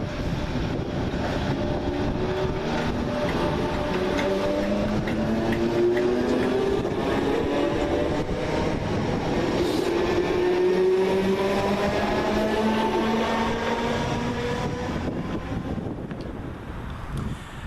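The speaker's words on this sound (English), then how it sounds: "Departing in the opposite direction is 313207, working the 1259 Southern service from Littlehampton to" Southern class 313 unit 313207 pulls out of Southwick station, a steady loud rumble with rising and falling whining motor tones as it gathers speed, wind buffeting the microphone throughout, easing slightly at the end.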